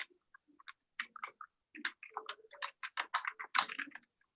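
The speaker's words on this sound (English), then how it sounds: "Can I ask whoever's typing to mute your mic, please?" Rapid irregular clicks of typing on a computer keyboard picked up by an open microphone during a virtual government commission meeting, fairly close and uneven in rhythm, with no voices.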